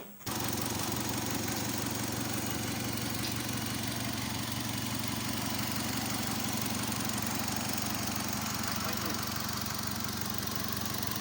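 A used car's engine idles steadily at close range, a constant low rumble with a slight mechanical chatter and no change in pace.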